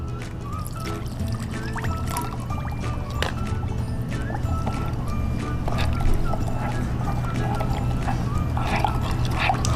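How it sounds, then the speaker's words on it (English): Water is poured into a sugar mixture in a bowl while making chocolate avocado pudding, giving a continuous splashing pour over a steady low background hum. "Let's add our water."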